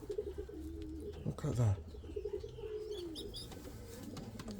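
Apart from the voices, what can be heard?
pigeon squab squeaking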